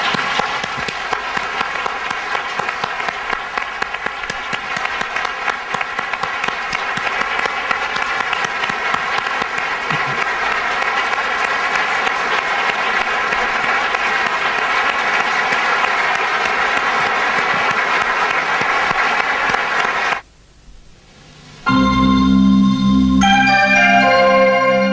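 Warm, sustained applause from a large audience honoring Salvador Freixedo, a dense continuous roar of clapping for about twenty seconds before it stops abruptly and music begins.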